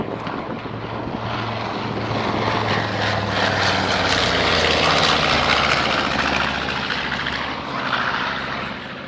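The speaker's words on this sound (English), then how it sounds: "Here comes another B-25, Rob." A North American B-25 bomber's piston engines drone past at close range, a loud propeller roar swelling to a peak mid-pass and easing slightly as it goes by, with no talk over it.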